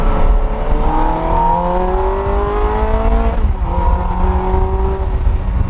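The engine of a Toyota Prius police vehicle runs up loudly and close by, its pitch climbing smoothly through two long revving sweeps with no talk over it.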